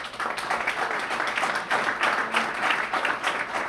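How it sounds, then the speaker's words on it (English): Guests at a Washington, DC mayors' tribute dinner applaud in a moderate, slightly surging wave of many hands clapping, rising and falling in loose pulses across a few seconds. "If she could stand up and give her a round of applause."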